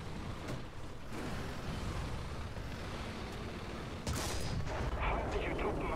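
A tank shell ricochet in War Thunder during a tank battle involving a Tiger H1 and a Panzer IV: one sharp metallic impact crack about two-thirds of the way through, faint and set over a steady low battlefield rumble.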